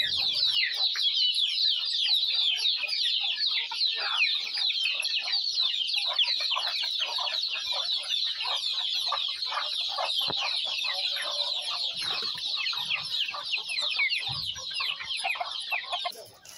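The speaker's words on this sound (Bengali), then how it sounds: "এখন আমি মুরগিগুলা ছেড়ে দিব বাগানের ভিতরে।" Farm chickens cluck and chatter continuously in a busy, close chorus of overlapping short calls, with an occasional louder squawk and no talk over them.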